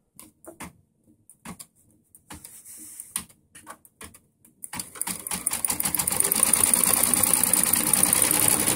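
Brother XV8500D embroidery machine stitching around the edge of an applique, starting with scattered clicks and taps, then settling into a loud, steady, fast mechanical stitching hum that runs to the end.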